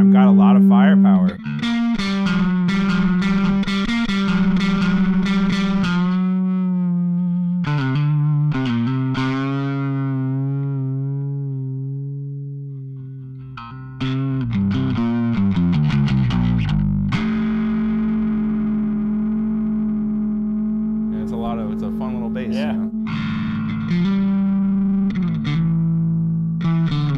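A Fender Player Jazz Bass runs through distortion effect pedals, producing loud, fuzzy, sustained notes and slides with gritty overtones, separated by short gaps and pick attacks, played alone without talk.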